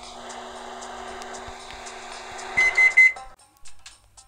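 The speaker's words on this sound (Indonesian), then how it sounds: "Nah, jadi nih tinggal aku oven." Cake baking in an oven in the Toca Life World game: a steady electronic hum runs for a few seconds, then a cluster of bright beeps signals it's done, followed by quiet.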